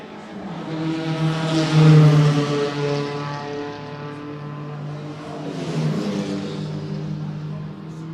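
Racing cars at a historic circuit, including a Porsche 944 closing on a Datsun 280 ZX, roar past with engine notes swelling and fading as they pass by at a distance.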